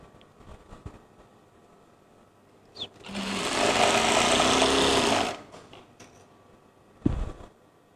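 A sewing machine runs in one steady burst of about two seconds while stitching a half-inch seam on children's clothing, close and fairly loud, with faint handling clicks before and after and no speech.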